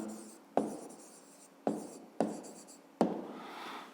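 A pen writing an answer to a fifth-grade math exercise, with four short scratchy strokes each starting sharply and then trailing off, close and quiet.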